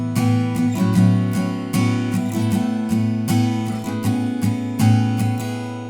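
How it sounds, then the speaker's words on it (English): Acoustic guitar strumming a chord progression in a steady down-down-down-down-up pattern, each chord struck repeatedly with crisp attacks, loud and close with no talking. "we're going to strum each chord with a down, down, down, down, up."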